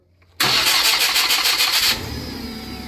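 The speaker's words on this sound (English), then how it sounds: "we're going to start the engine" Starter cranks a Hyundai 2.5L car engine, which has an ECM ground fault. It catches within a couple of seconds with a pulsing whir, then settles into a steady idle, close by and with no talk.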